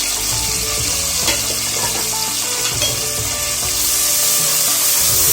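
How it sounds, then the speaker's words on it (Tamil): Crushed ginger and garlic sauté in a pan for green gram rice, crackling in a loud, dense, steady sizzle with light stirring scrapes throughout. "இஞ்சி பூண்டு பச்சை வாசனை போற வரைக்கும் வதக்கிக்கலாம்"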